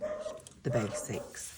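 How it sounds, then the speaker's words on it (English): Dogs bark indoors, a couple of quick barks heard under someone talking at close range. "Sorry about the dogs."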